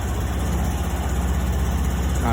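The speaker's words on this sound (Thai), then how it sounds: "กำเบรกหน้า กดสตาร์ท นะครับ ตอนนี้ รถคุณลูกค้า ติด เรียบร้อยนะครับ" A 2020 Honda Scoopy i scooter idles steadily after being started, a continuous close engine hum with a low, even rumble and no talking over it.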